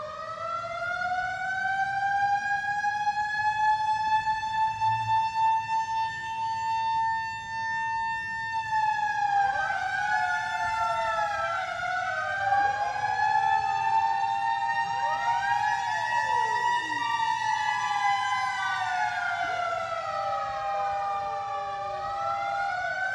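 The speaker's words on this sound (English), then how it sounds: "Let's hear those sirens go." Several sirens wailing together at the 1906 earthquake commemoration at Lotta's Fountain, rising and falling in overlapping sweeps, loud and sustained over a low rumble, with no voices.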